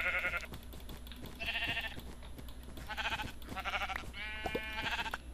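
Sheep bleating in the Minecraft video game, several wavering game-sound bleats in a loose irregular series, moderately loud over a faint steady background hum, with no talking.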